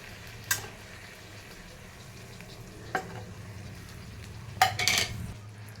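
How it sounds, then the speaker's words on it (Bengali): A spoon stirs poppy seed and chili paste in a cooking pan with soft scraping and a low sizzle, broken by a few clinks against the metal, the sharpest near the end. "এর মধ্যে একটু নাড়াচাড়া দিয়ে দিই ঢেকে দেবো"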